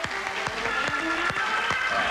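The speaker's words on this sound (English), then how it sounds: "I think before they even perform, we should give them a round of applause" Studio audience applauding a band, steady dense clapping with sharper individual claps standing out, moderately loud and without talk.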